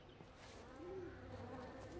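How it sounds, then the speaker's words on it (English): Bees buzzing in the video game Everybody's Gone to the Rapture, a soft continuous insect drone with a faint wavering hum, low in level with no talk over it. "Oh, bees."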